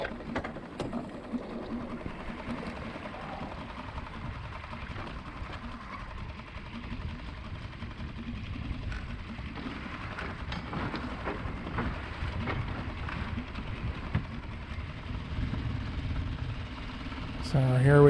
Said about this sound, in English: So I got that little Tahatsu just about floored there.